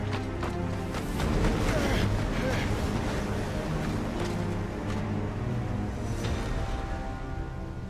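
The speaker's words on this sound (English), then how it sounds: "That's not just windy weather you're wandering into" Stormy wind roars in Final Fantasy XVI, a continuous, loud, gusting rumble that swells early and persists under speech.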